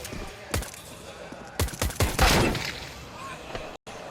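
Rifle fire from a Galil in a Counter-Strike esports match, several sharp gunshots in quick bursts under a caster's excited commentary.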